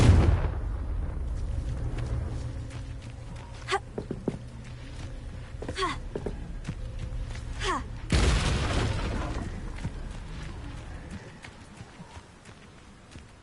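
A Confringo blasting spell bursts with a sharp explosive boom in Hogwarts Legacy, and a second loud burst follows midway, both set against ambient game sound with a faint voice.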